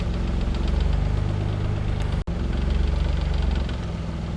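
Mazda V6 engine idling at operating temperature, close and loud, with a steady, even low throb and faint ticking, broken by a single short click partway through.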